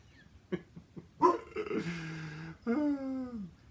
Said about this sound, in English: She heard something outside and now she's going to bark.